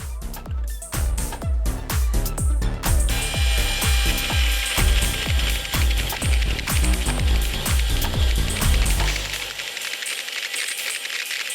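A saw blade cutting through a thick-walled steel axle tube, about 5 mm wall: a loud, fast, regular rasping stroke that repeats evenly for around nine seconds, then stops and leaves a faint ringing tail.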